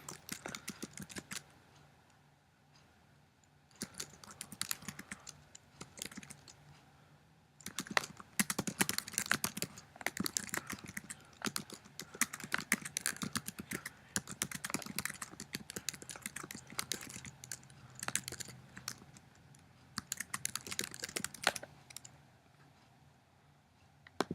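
Typing on a computer keyboard goes on for over twenty seconds, with fast, close clicking keystrokes in irregular bursts and a few short pauses, with no speech.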